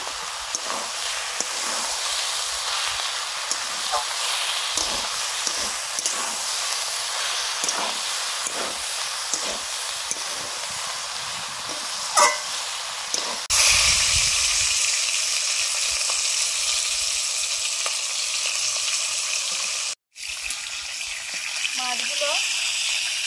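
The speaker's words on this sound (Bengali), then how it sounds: "মাছগুলো ভেজে নিচ্ছি" Fish sizzling steadily in hot oil in a pan, a continuous loud hiss with occasional clatter of stirring and a brief pause before the frying noise resumes.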